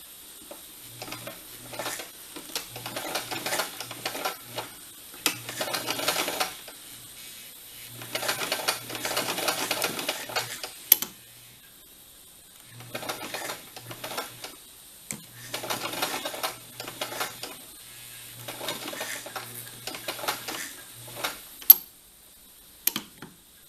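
Sewing machine stitching a backtack on a Christmas Santa Claus placemat, running in several short bursts separated by pauses, with a quiet low motor hum and fast needle clatter throughout; nobody speaks.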